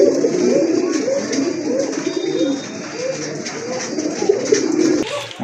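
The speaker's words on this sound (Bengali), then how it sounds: "মাশাআল্লাহ, দেখেন দানব আকৃতির একটা কবুতর, মুন্ডিয়ানের বিগ সাইজের একটা ওভারলাইট কালারের ভিতরে একটা নর কবুতর।" A large male Mundian breed pigeon, overlight in colour, coos continuously in low, rolling bursts, close and loud, with other pigeons around.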